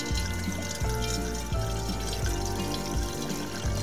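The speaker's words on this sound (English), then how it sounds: "I'm sure pouring it in like this also helps it aerate into the jar." Welch's Concord grape juice pours into a jar in a steady gurgling stream, with a few glugs and a rising liquid tone as it fills, close up and with no one talking.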